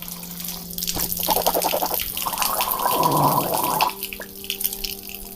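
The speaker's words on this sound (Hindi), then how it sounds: "गरारा मैं आपको करके बताता हूँ।" A person gargling water during wudu ablution beside a running tap: a rising, bubbly throat gurgle lasting a few seconds over steady splashing water, then the tap runs on alone.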